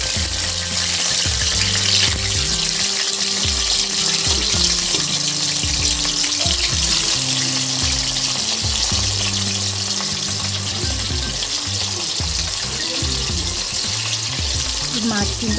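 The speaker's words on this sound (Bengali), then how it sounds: "চলো মাছগুলোকে ভেজে নিই।" Pieces of aar fish frying in hot oil in a kadai sizzle continuously and close, with loud bubbling and crackle. A low, sustained tonal hum runs underneath.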